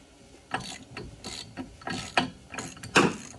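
A wrench ratchets and clicks in short bursts while working on the flywheel nut of a 1968 Eaton Viking vintage snowmobile, with several sharp, close metallic clacks and creaks spaced about half a second apart.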